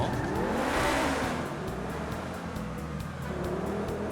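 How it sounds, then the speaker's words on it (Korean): The engine of an Übermacht SC1 supercar in GTA 5 drones steadily with a rising, revving tone, loud and continuous throughout, with no voices. "지금 엔진 소리를 보면 내연기관 차량이 맞긴 한데"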